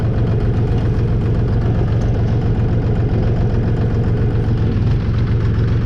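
A DTZ 5244 tractor engine running in working gear, a loud, steady low rumble with an even, throbbing mechanical pulse that holds constant throughout, close by.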